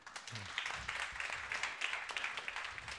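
An audience at a Swedish university panel event breaks into warm applause, a dense, even wash of clapping held at moderate distance with no break for about three seconds.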